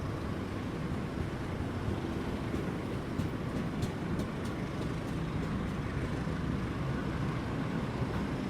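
Bangunkarta passenger train pulling out of Jombang station, a steady low rumble and rolling rail noise heard from inside a neighbouring train, with a few faint clanks.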